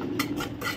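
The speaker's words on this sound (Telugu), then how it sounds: "ఇదైతే వేయించుతున్నా కిస్మిస్." Raisins frying in a pan for semiya payasam, a brief, soft sizzle with light scraping and clinking from stirring, fairly quiet and close.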